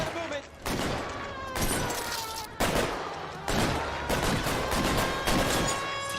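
Gunfire in the video game L.A. Noire: repeated sharp shots and bursts come in clusters across the clip, loud and close, with game noise around them.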